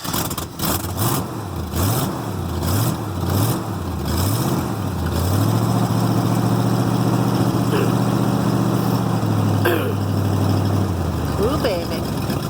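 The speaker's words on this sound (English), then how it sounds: "it's got the V8 now, but it kind of runs like crap" A Jeep with a poorly done V8 swap, originally six-cylinder, running roughly: uneven, surging revs settle into a loud, lumpy idle that wavers and drops near the end, close up, with someone talking over it.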